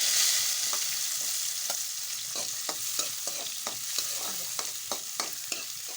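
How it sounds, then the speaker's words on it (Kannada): Onions and peanuts fry in a pan for Belagavi churmuri, giving a constant soft sizzle punctuated by regular scraping taps of a spatula as they are stirred, with no voices. "ಉಳ್ಳಾಗಡ್ಡಿ ಮೆತ್ತಗಾಗುವವರೆಗೆ ಕಡ್ಡಾಡ್ಸ್ಬೇಕು ನೋಡಿರಿ"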